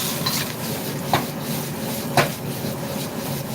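A wok of fried noodles is shaken and stirred over a roaring high flame, a steady hiss with a couple of sharp metal clanks against the pan.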